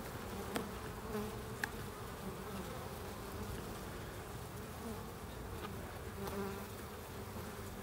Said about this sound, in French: Il y a une belle activité, regardez même les essaims ça travaille bien.